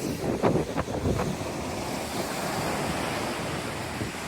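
Ocean waves wash onto Corito Bay beach in a steady surf roar while wind buffets the microphone, a few stronger gusts near the start and no voices.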